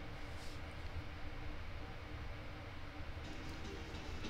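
Subway train passing in the arcade video game Ninja Warrior, a steady dense rumbling roar of rail noise, loud and continuous, with no voices.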